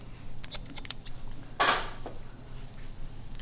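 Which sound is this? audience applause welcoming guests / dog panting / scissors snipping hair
scissors snipping hair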